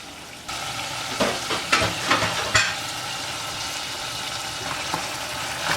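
Green pepper frying in a spicy Ghanaian mixture gives a steady, close sizzle, with a few brief stirring scrapes and clatters in the first half and no voices.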